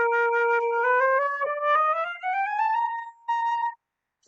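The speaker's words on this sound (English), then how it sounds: "So when I play the flute sounds like this." A solo wooden flute plays a smooth rising run of clear notes, then holds a final higher tone before stopping, with no talking.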